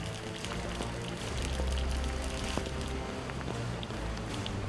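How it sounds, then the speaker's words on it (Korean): Steady rain patters across an outdoor construction site for a landscaped country estate, a dense, continuous hiss with scattered drops and faint low rumbles, no talk. "갑작스런 비에 분주해진 작업자들."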